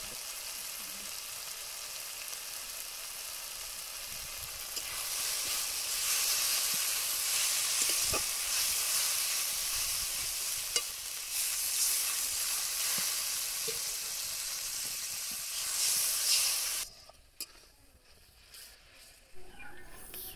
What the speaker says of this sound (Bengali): এইবার আমি লঙ্কার গুঁড়ো, হলুদ গুঁড়ো দিয়ে মশলাটা ভালো করে কষে নেব।